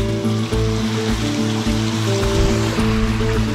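A small creek runs steadily close by with a constant rushing, burbling flow, loud and unbroken, while a low hum sits underneath; no voices.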